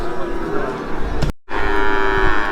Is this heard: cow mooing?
yes